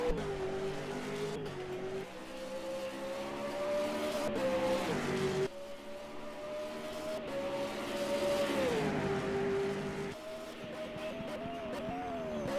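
V8 race cars lapping the Symmons Plains circuit in a sim racing game, a loud, steady engine howl that climbs and dips with gear changes and braking, including a lock-up into turn one.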